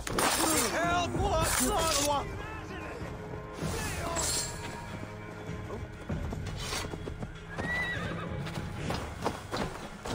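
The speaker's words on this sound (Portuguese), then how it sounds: "Chamei o cavalo sem querer." A horse in a Viking video game whinnies loudly and repeatedly while hooves clop along, with crashing impacts and someone talking over the game sounds throughout.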